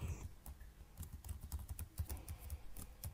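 Rapid typing on a computer keyboard, close, with a quick run of crisp clicking keystrokes in a steady uneven rhythm and no talking.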